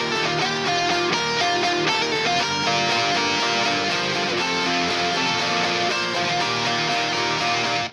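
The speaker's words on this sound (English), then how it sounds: "that's sort of creating that chorusy doubling effect you can hear" A dense, sustained pop punk guitar part with a shimmering, doubled chorus texture plays continuously and loudly, full and wide throughout, with no talking.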